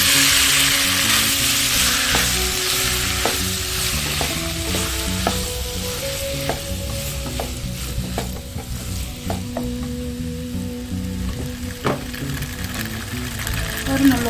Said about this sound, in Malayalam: ഇനി ഇതിലേക്ക് അല്പം നെയ്യൊഴിച്ച് നമുക്ക് ചൗവരി ഇതിൽ ചേർത്ത് കൊടുക്കാം.